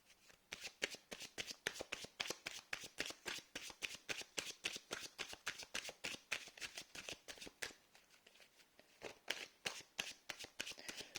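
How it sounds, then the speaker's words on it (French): Tarot cards being shuffled by hand in a long run of rapid, crisp riffling flutters, close and steady with brief pauses, with no talking. "Je fais tomber les cartes"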